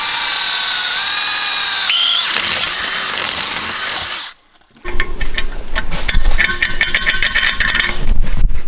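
A power drill bores out a bolt hole during repair work on a Nissan R32, running steadily with a loud whine, briefly stopping, then resuming with harsher, grinding bursts of cutting.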